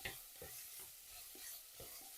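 Pork ribs sizzle steadily in a pan, a constant hiss broken by a few soft scraping stirs.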